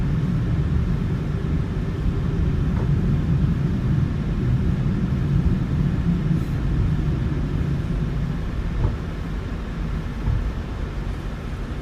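Cabin of an airliner taxiing with flaps at one degree and slats extended, a steady low engine rumble and broad hum filling the space with no voices.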